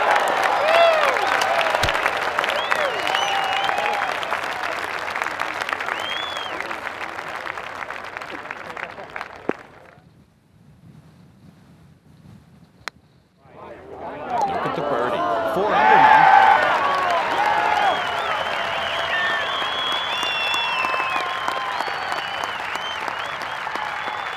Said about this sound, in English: The crowd's loving this.